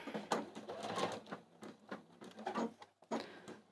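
A sewing machine runs a quick back stitch on a quilt seam, its needle pattering in short, uneven bursts with brief pauses between runs, fairly quiet and close.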